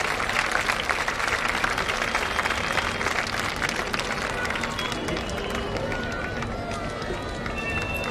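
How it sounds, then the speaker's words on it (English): An outdoor Navy Day crowd applauds after a precision display, a broad continuous roar of clapping mixed with crowd chatter and babble, holding steady throughout. "That immaculate display of precision truly calls for a thunderous round of applause"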